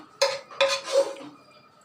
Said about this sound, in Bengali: নারকেল রান্না আমার শেষ, এখন আমি নামিয়ে নেব। এখন আমি তুলে নেব প্লেটে।